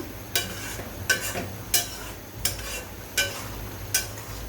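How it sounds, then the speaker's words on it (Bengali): Gentle stirring of egg korma in a pan, with soft scraping strokes coming at a slow, steady rhythm of about six over a few seconds, set against a faint low sizzle. "তার জন্য আমি ডিম দিয়ে বেশি নাড়াচাড়াও করছি না, খুবই আলতোভাবে নেড়ে নিতে হবে।"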